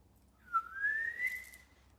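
A single whistled rising glide imitates a wheel rolling away down a hill, moderately faint, lasting just over a second against a quiet background.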